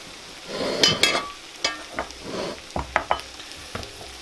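Black pudding fries in a pot during an outdoor winter rabbit-stew cook, giving a quiet sizzle broken by several sharp scrapes and clinks of stirring against the pot.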